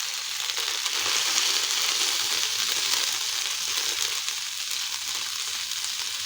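Fennel seeds, nigella, asafoetida and turmeric sizzle in hot oil for a Bengali dhokar dalna, giving a continuous, close, bright frying hiss with fine crackles throughout and no talk.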